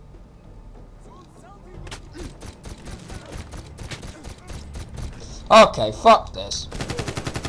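Enemy gunfire in Medal of Honor: scattered shots and mechanical clatter building to two loud close bursts, then a fast rattling volley at the end, with someone speaking briefly.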